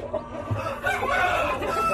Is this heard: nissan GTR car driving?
no